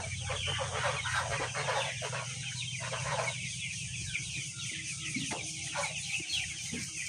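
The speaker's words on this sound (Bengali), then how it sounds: "এগুলো হলো লেয়ার মুরগি" Layer hens cluck and call together, a busy flock chorus of overlapping clucks over a constant background hum.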